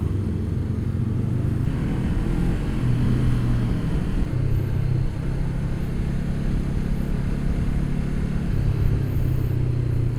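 A Honda CBR500 500cc sportbike rides through traffic, its engine a steady low rumble with mild rises and dips in pitch, loud and constant with no speech.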